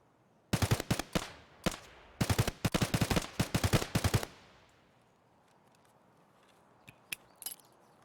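Gunfire in Escape from Tarkov: two loud, close bursts of rapid automatic shots, followed by quieter, more distant scattered shots and faint clatter, with no talking.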